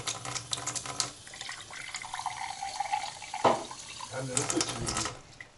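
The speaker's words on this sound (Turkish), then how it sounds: "Almanya'da çeşmeden su içilebiliyor" Water running from a kitchen tap in Germany, a steady splashing stream that fades and returns, with a person talking over it.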